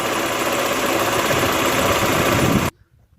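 A car engine runs with a noisy pulley or bearing, giving a dense, steady mechanical drone with a whirring edge. It sounds close and constant, then cuts off abruptly just before the end.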